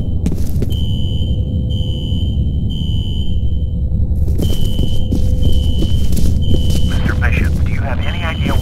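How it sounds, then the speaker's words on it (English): A fire alarm sounds in the video game F.E.A.R., triggered in a security office: a loud, high electronic tone pulsing in repeated bursts over a low rumbling background, with a voice speaking partway through. "A fire alarm. It was triggered at a security office on that floor."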